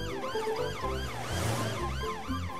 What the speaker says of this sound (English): It's Police Officer Panda in his police car coming to see if everyone's okay.